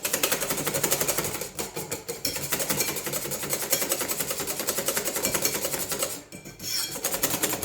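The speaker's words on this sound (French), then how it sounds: "faites-le au batteur" Electric hand mixer beating chocolate moelleux cake batter in a bowl, a continuous buzzing whir with a regular rapid pulse, dipping briefly twice before resuming at a steady level.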